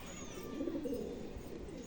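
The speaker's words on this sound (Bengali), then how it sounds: "এই যে পায়রা" A pigeon coos once, soft and low, a brief murmuring call against quiet background noise.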